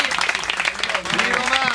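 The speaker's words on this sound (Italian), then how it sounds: "a cui va l'applauso dei romani presenti" Applause from a Roman audience honoring film director Luigi Magni, dense steady clapping filling the whole moment at close range, with faint voices mixed in.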